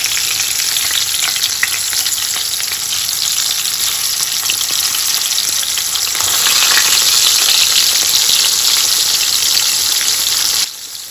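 Mutton chops frying in a pan, a loud, dense sizzle with crackling spatter that swells midway, then drops away abruptly just before the end.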